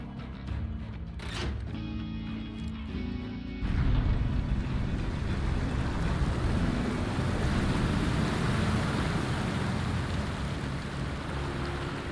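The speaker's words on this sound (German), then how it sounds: "Dann lassen wir hier mal das Wasser ab." Water rushing and churning as a basin is drained in the video game Final Fantasy 7 Remake, a loud steady broadband roar that swells after a few seconds and keeps flowing without pause.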